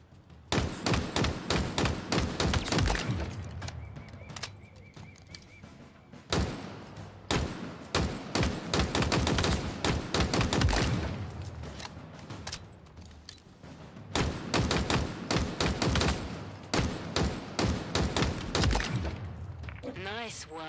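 Practice targets are shot in Halo Infinite with rapid bursts of gunfire and thudding impacts. The bursts come in dense volleys with short pauses, and game dialogue is heard between them.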